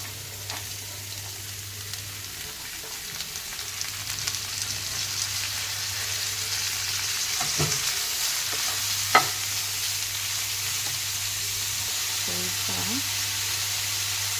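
Fresh country beans sizzle and crackle steadily as they stir-fry in a pan, with occasional clinks and scrapes of a spatula over a low background hum. There is no talk.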